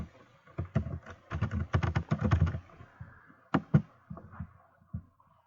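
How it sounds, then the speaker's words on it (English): A password being typed on a computer keyboard: quick bursts of close, crisp key clicks, then a pause and a few scattered final keystrokes, with no voice. "I just got to type in the password."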